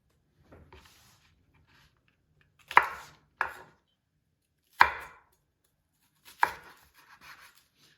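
Knife chopping off the root end of a green onion on a cutting board: four sharp, distinct thuds spaced a second or two apart, close and clear against quiet, with faint handling noise between.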